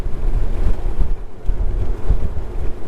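Gusty beach wind of about 15 to 18 mph buffets the microphone in rough, pulsing waves, loud and close, with no voices.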